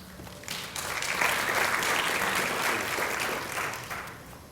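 Audience applause welcomes a speaker at a legal ethics seminar, a sustained wash of clapping that swells quickly, holds steady and begins to taper at the end, with no voices over it.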